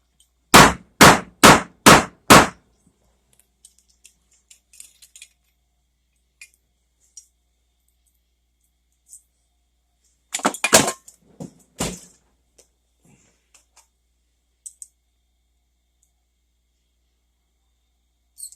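Test rifle cartridge being whacked to check bullet compatibility: five loud, evenly spaced metallic strikes up front, then a cluster of sharper knocks and clatter later, with scattered faint ticks in between.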